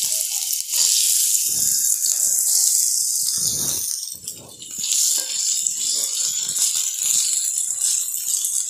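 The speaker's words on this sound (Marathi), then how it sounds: "तेल चांगले तापलेले आहे, त्यात आपण हा कट केलेला बटाटा घालूया" Cut potatoes going into hot oil in a heated pan, a loud bright sizzle with rattling, scraping bursts as the pieces are stirred, persisting throughout.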